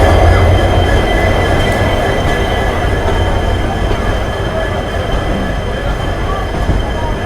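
Indian Railways sleeper-class express hauled by a WDP 4 diesel locomotive, a loud continuous rumble and rattle of the moving coach with wheel noise and faint squeal throughout.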